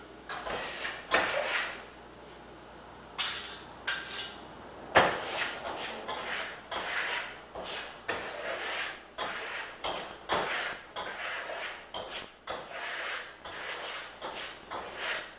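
A trowel scrapes and rubs Venetian plaster onto a wall in short irregular strokes, each swipe a soft rasping smear with brief pauses between, close and fairly quiet.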